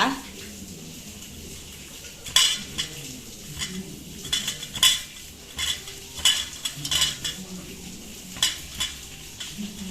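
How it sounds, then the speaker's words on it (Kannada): A spoon stirs a thick spice mixture in a bowl for sardine (boothai) fry, with repeated irregular scrapes and clinks, close by. "ಇತ್ತೆ ನಮ್ಮ ಮಿಕ್ಸ್ ಮನ್ಪುಗ"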